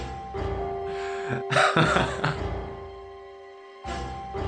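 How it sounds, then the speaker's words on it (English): Junpei, a character in the video game 999, breathes oddly: a few close, ragged gasping breaths with short pauses between them, alone and fairly quiet. "Your breathing sounds strange."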